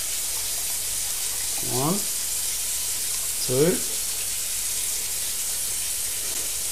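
Two liters of water pour into a pot of homestyle spaghetti bolognese as a steady, close broadband rush, while a voice counts aloud over it.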